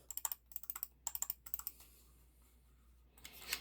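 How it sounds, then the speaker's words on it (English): Crisp, rapid clicks in quick bursts, a Logitech M325s mouse button tapped repeatedly in close range, then a brief pause before more clicking. "Those are the standard clicking sounds here."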